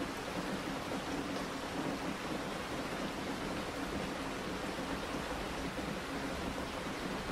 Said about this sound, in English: echoes with the soft patter of raindrops on leaves